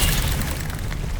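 An Expelliarmus spell fires in the video game Hogwarts Legacy, a short booming magical burst with a heavy low thump that quickly tails off.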